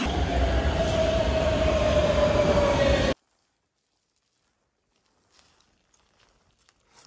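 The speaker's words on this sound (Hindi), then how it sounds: "इधर ट्रेनें गुजरती हैं तो बहुत ज़्यादा हवा होती है," A train rushes past close by near a mountain ski area, a loud steady roar with a high whine lasting about three seconds before cutting off abruptly, followed by near silence with faint scattered ticks.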